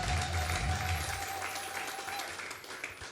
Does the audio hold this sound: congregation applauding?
yes